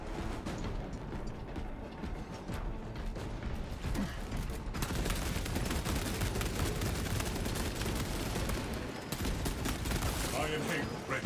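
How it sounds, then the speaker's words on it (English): Continuous heavy gunfire in Space Marine 2, a dense, loud stream of rapid shots and explosions rattling almost without pause, with a brief lull near the end. "Actually, just fire this gun forever."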